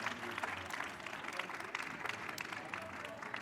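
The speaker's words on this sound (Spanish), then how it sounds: "por favor, un aplauso fuerte para Samuel Larson" An audience at a book-festival talk applauds a guest speaker with a steady, moderately distant wash of clapping that continues evenly throughout.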